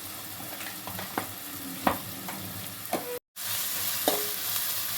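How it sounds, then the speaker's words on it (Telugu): Ginger garlic paste fries in hot oil in a pan, a steady sizzle with a few spoon scrapes and stirring clinks, briefly cut off, then sizzling on again. "ఆయిల్లో ఫ్రై చేసుకోవాలి ఒక స్పూన్ అల్లం వెల్లుల్లి పేస్ట్"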